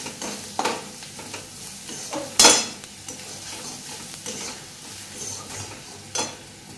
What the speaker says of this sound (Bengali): এটা পেঁয়াজটা অলমোস্ট ভাজা ভাজা কমপ্লিট হয়ে গেছে।